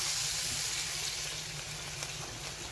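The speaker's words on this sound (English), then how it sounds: "We're then going to add a tablespoon of butter into the pan" Butter and white wine sizzle in a frying pan for chicken cacciatore, a steady, close, hissing fry that holds throughout without pause or voices.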